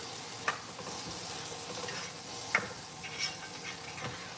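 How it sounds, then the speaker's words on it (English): Braised beef stirred in a pot, a faint soft simmering hiss broken by a couple of sharp spoon-against-pot knocks, quiet and close with no voices. "We're going to Stir it."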